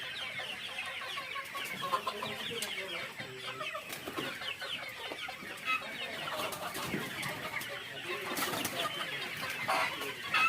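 A flock of 250 to 300 fully grown local chickens at a poultry farm clucks and squawks continuously, many overlapping calls close by.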